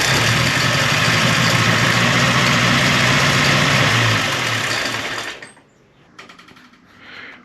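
An Austin 7 Ruby engine runs close and loud, a busy, fast mechanical chatter that holds steady, then cuts off near the end as the engine stops, leaving faint quieter noises.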